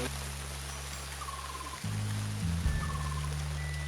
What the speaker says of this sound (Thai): ตอนนี้ฝนกำลังตกพอดีเลย